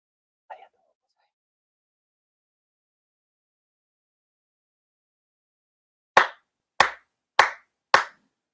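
Four sharp ritual hand claps at a Konkokyo monthly ceremony in Chula Vista, evenly spaced and close, following a brief faint sound and long silence.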